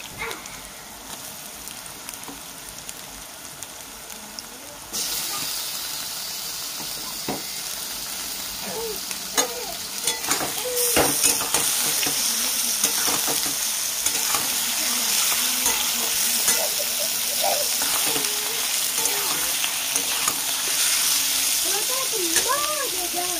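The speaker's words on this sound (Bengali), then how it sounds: "এবার মাংস পেঁয়াজ একসাথে ভাজা হবে" Meat and onions frying together in a pan make a steady sizzle that grows louder and denser partway through, with occasional stirring scrapes and a voice speaking intermittently over it.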